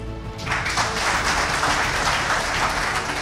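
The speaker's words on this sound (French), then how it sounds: "Il faut l'applaudir." An audience at an award ceremony breaks into sustained applause after a brief quiet start, the clapping dense and steady throughout.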